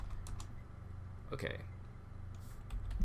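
Computer keyboard typing, soft rapid key clicks close by over a steady background hum, with a person briefly speaking partway through.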